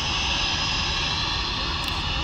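A loud, steady roar of a jet airplane taking off on Memorial Day weekend, broadband engine noise sustained throughout with no voices.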